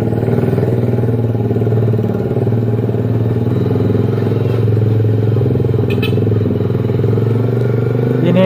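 A Suzuki GSX R150 motorcycle engine running steadily with a constant droning, pulsing exhaust note, loud and close, with no talking.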